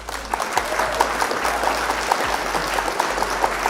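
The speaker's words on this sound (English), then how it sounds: "Round of applause." A steady round of clapping from a small group goes on without a break for several seconds at an even level, with a low hum running beneath it.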